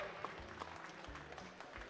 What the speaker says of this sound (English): Let's give these three young ladies a big round of applause